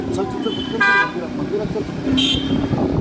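Convoy of cars and motorbikes in a welcome rally through Titwala, with car horns tooting in short bursts over steady road traffic noise while people talk nearby.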